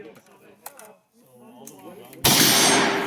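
A single loud gunshot at an outdoor shooting range cracks out sharply after people talk nearby, its blast ringing on to the end.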